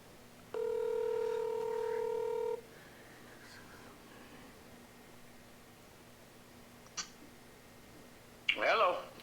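A telephone is dialed for a call, a steady two-second tone followed by quiet line hiss, a faint click, and a brief burst of voice at the end.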